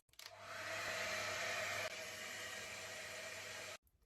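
A Babyliss Hydro Fusion hair dryer runs on its top setting with a loud, steady close-up whoosh that starts abruptly, holds for several seconds with a slight shift midway, then switches off.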